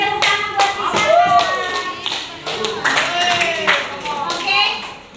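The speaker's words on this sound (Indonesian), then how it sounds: "tepuk tangan buat Pusaka" A school class claps for a student, a burst of many small hands clapping up close that swells and fades while a teacher and children talk over it.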